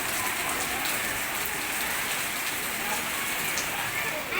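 Steady rain falling outdoors where children bathe in the downpour, a dense, even hiss of drops on surfaces that holds constant throughout with no breaks.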